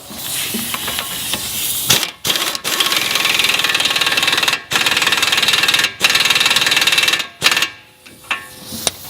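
An axle nut on a Nissan Altima is run up with a socket on a power tool: loud, close buzzing bursts of a few seconds each, separated by short pauses, ending in brief taps.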